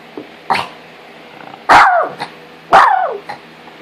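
A dog barks close by, giving a few short yips followed by two loud, sharp barks about a second apart, with no talking in between.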